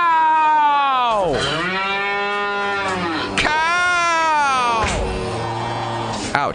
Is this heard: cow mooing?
yes